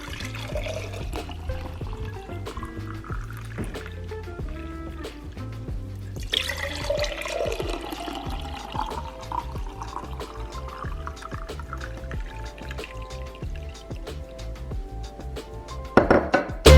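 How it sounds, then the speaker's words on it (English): Detox juice poured from a container into glass mason jars, a steady liquid stream with dribbling and splashing throughout, fairly close, with a brief louder clatter at the very end. "I'm gonna go ahead and pour it into my mason jars"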